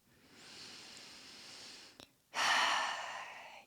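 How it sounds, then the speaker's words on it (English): Slow, drawn-out breaths during a power yoga session: a long soft exhale, a brief pause with a small click, then a louder, airy exhale close to the mic, with no talking. "Really long, slow exhales now."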